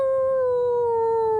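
Wolves in Norway give a single sustained howl, steady and fairly loud, holding one pitch with a slight downward slide as it ends, close and clear with no talk over it.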